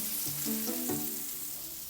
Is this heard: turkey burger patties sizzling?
yes